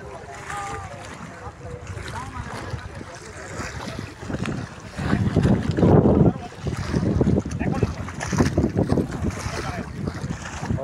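Wind gusts over the Padma river at Munshiganj with a rough, buffeting rush that swells loudly in the second half, and voices and river noise sit beneath it.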